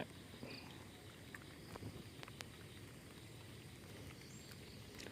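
Light rain falling outdoors, a steady faint hiss of drops with occasional sharper taps and a few insect chirps in the background, no speech.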